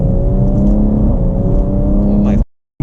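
A BMW M140i with a Bootmod3 Stage 2+ tune drives with a loud, steady engine drone and low rumble, holding strong for over two seconds before cutting off abruptly into silence.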